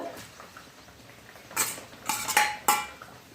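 A spoon scrapes and clinks against a pan while fenugreek leaves are mixed into a garlicky dhaba-style methi bhaji, with several short metallic clatters in the second half after a quiet start.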